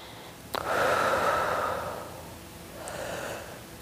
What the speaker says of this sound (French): Et allez, inspire, expire longuement.